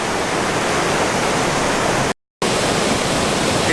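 A waterfall pours steadily into a pool, a dense, even roar of rushing water that fills the whole scene, loud and close, with a brief dead-silent gap partway through.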